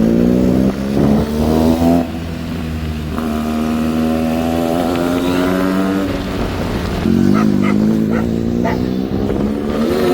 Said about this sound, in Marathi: तर गाईज आता स्पोर्ट बाईक चालवणार आहे